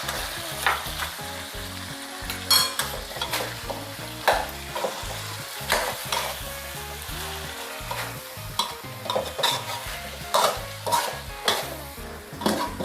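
Pork soft bones stir-fried with black pepper, fish sauce, sugar and dark soy sauce sizzle steadily in a pan, with repeated spatula stirs and scrapes breaking through the continuous hiss; no one speaks.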